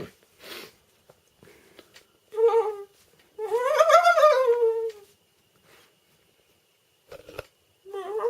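A person imitates a turkey gobble, a rapid warbling vocal trill lasting over a second, with short bursts of laughter and talk before and after in a quiet room.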